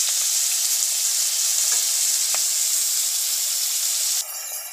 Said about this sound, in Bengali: এপিট ওপিট করে ভালো করে ভেজে নিতে হবে যতক্ষণ না গোল্ডেন ব্রাউন